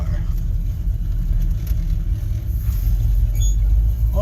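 A car rolls into a residential driveway, its low engine rumble steady and close throughout, with no talk over it.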